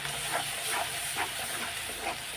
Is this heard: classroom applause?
no